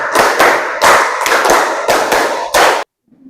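A class of students claps together in a rhythmic pattern, several sharp, loud group claps in quick succession. The claps stop abruptly and silence follows.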